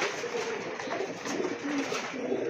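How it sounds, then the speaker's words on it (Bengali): Pigeons cooing steadily at a crowded pigeon farm in Ashulia, Savar, Dhaka, many birds kept together in cages, a dense continuous murmur of overlapping coos close by with no talk. "দেখার মতো কবুতর, একদম ফুল ফ্রেশ আর অ্যাক্টিভ কবুতর"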